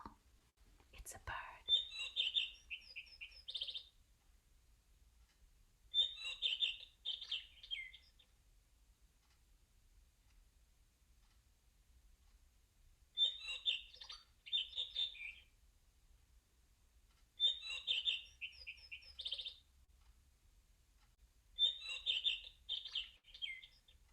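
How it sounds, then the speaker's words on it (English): A bird clock chimes the hour with recorded birdsong, short bright chirping phrases coming in spaced bursts from a small speaker in a quiet room, fairly faint and with long pauses between calls. "I have a bird clock that sounds on the hour."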